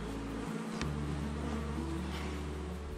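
Bees buzz at an open beehive while the top is scraped, a dense, steady droning hum with several wingbeat tones layered close by, continuous throughout without talk.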